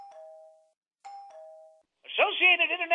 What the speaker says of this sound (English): So let's ring the doorbell.